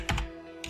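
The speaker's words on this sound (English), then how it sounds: "Or I'll type in impossible" A few quick keystrokes on a computer keyboard, close and fairly soft, with two clustered taps at the start and another at the end, no talk.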